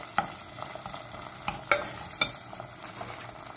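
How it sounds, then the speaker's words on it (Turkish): Onions sautéing in a pan give a steady low sizzle while a utensil stirs and scrapes, with several sharp clicks against the pan, close by and with no voices. "Soğanlarımız güzelce kavruldu."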